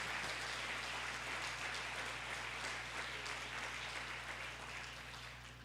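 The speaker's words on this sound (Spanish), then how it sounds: "dale un aplauso a Dios" Steady applause from a church congregation fills the space, dense and sustained at moderate distance, slowly tapering toward the end, with a low hum running underneath.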